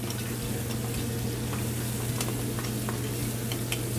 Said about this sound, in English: Saute until it's brown, done.